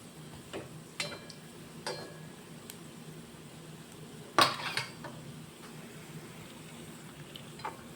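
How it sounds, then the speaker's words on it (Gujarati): Vegetable manchurian balls frying in a pan and being turned, a few light clinks and taps of utensil on pan, one sharper clatter midway, over a quiet background sizzle. "આપણા મંચુરિયન્સ બોલ ગોલ્ડન બ્રાઉન થઈ ગયા છે એટલે આપણે પલટાવી દઈશું"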